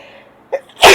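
A single loud, abrupt sneeze bursts out near the end of a quiet stretch during an interview, preceded by a brief soft intake.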